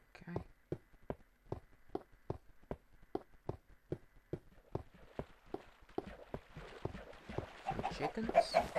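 Chickens clucking in Minecraft, a steady run of short, evenly spaced clucks at moderate volume, with a brighter, busier sound building toward the end.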